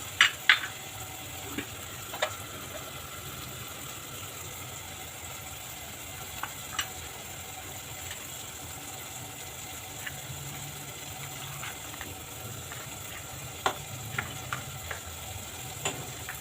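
Ginger garlic paste and softened tomatoes fry in a pan for misal, a quiet steady sizzle with occasional small taps and clicks of a spoon.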